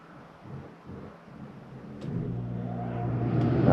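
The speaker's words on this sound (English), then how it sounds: "Alright, AC kicked on." An air conditioner on a 2014 Jayco Eagle HT 26.5 RV starts up, a low rumbling hum that swells steadily and grows louder toward the end.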